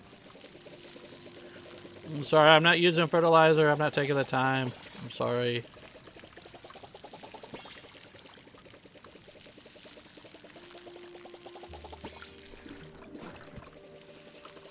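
Water pouring while watering crops on a farming plot in the Palia video game, a bright splashing pour that starts loud and runs for a few seconds before cutting off, with a person talking over and after it.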